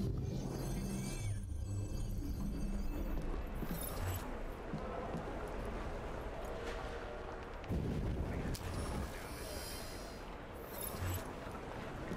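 Heavy explosions and blasts in the Assassin's Creed Syndicate video game, loud dense booming with bursts of rumble throughout, some sharper cracks mixed in.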